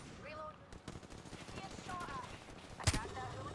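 Rapid gunfire in the battle royale game Apex Legends, bursts of shots under a player's voice, with one sharp louder blast near the end.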